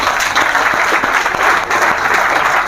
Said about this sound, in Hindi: भाई के लिए फिर एक बार ताली